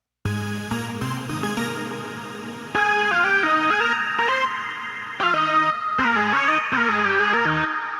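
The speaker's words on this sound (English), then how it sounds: "That sound is called Leonard's signature lead sound" A bright synth lead plays a melodic line of sustained notes with sliding pitch changes, loud and alone.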